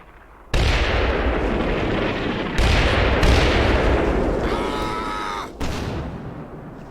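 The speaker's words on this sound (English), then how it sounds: "Yeah, we're getting friendly fire with our artillery here, but I mean, it's danger close. Also kind of crossfire between the two machine guns." Dense, continuous artillery blasts and machine-gun crossfire in the Combat Mission: Rome to Victory wargame at Riva Ridge, loud and close with sudden heavy impacts, heard alone without talk.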